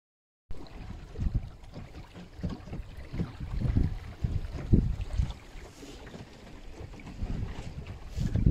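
A Mirror dinghy sails on an August morning off the tidal slipway at Queenborough, Isle of Sheppey, with gusty wind buffeting the microphone and irregular water sloshing against the hull, nearby and fairly loud.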